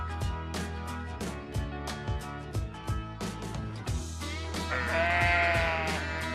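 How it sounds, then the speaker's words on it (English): A sheep bleats in a long, wavering call near the end, heard over rhythmic background music with steady beats throughout. "Sheep."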